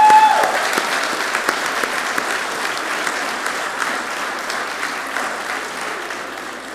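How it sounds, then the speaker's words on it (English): Applause for award winners at a practical nursing school graduation, a full burst of crowd clapping that starts strong and gradually thins and softens over several seconds. "Let's have a round of applause for all our award winners."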